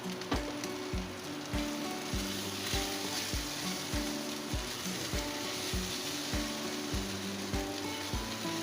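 Chicken patty mixture sizzling in a pan with black and white pepper, a steady frying hiss punctuated by regular scraping stirs of a spoon, close and alone without talk.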